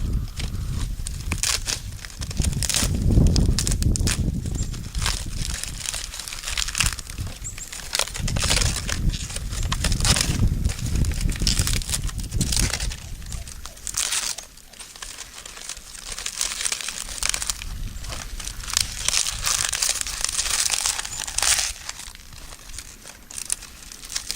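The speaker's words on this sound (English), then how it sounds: "you take your birch bark and you shred it up really fine. Just keep ripping it up like this." Dry birch bark is shredded and ripped by hand to make tinder for a fire in snow, giving continuous close crinkling, crackling and tearing, with bursts of louder rustling and no speech.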